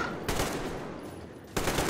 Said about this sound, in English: they're shooting me from the ceiling as well